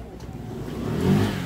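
A delivery motorcycle arrives with a mid-pitched engine that grows louder as it approaches, swelling to a peak near the end of the short stretch.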